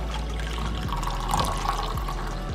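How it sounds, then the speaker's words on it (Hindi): Half a cup of hot water poured into a glass holding a pinch of roasted cumin powder, a steady close liquid splash and trickle lasting a couple of seconds with no talking. "अब इसमें मैं डाल दूँगी आधा कप गर्म पानी।"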